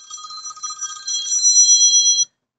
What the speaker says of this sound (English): Oh, my phone, I don't know who it is.